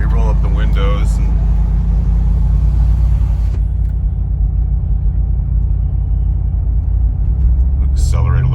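A 2004 Lexus GX470 fitted with an R4T catback exhaust rumbles deep and steady, heard from inside the vehicle, with a person talking over the opening seconds and again briefly at the end.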